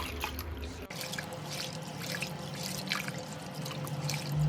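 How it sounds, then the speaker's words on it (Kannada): Four cups of chana dal (split chickpeas) washed in water for holige, with soft, continuous sloshing, trickling and dripping after a brief clatter at the start. "ನಾಲ್ಕು ಲೋಟ ಕಡಲೆಬೇಳೆ ಹಾಕಿ ಅದನ್ನು ಚೆನ್ನಾಗಿ ನೀರಿನಲ್ಲಿ ತೊಳ್ಕೊಳ್ಬೇಕು"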